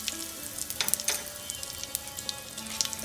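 Asafoetida (hing) frying in a pan for a Jammu-style pumpkin dish gives off a quiet, steady sizzle with faint crackles and small pops, and no one speaks.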